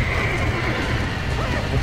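Horse in the Red Dead Redemption video game whinnying loudly over a dense bed of game sound, a single drawn-out neigh filling the short moment.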